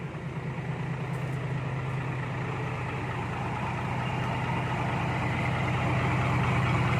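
A truck engine idles with an aggressive, throbbing low rumble, steady and close, growing slightly louder toward the end.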